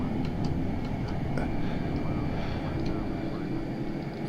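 F-14 Tomcat jet engine climbing out just after takeoff in the FSX flight simulator, a steady broadband roar with a constant hum that holds at an even loudness throughout.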